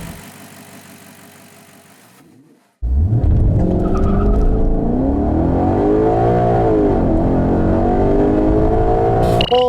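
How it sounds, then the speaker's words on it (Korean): A 2017 Maserati GranCabrio Sport at first idles quietly; then its engine fires up into a sudden loud roar and accelerates hard, the pitch climbing and dipping through gear changes for several seconds, with no speech. "그럼 이번에는 그란 카브리오 스포츠의 가속 성능에 대해서도 한번 알아볼까요?"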